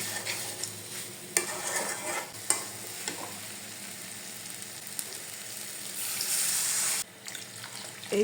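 Spices and a spoonful of tomato sauce are stirred and sautéed in a pan for an egg-mustard curry, with scraping spoon strokes and soft sizzling, a few sharp clinks and a louder hissing burst near the end, no talk.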